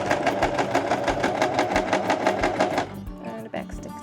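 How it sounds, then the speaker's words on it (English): A sewing machine runs a simple seam with rapid, evenly pulsing stitches for almost three seconds, then stops, leaving quiet handling sounds and faint talk at the end. "Begin with sewing a simple seam."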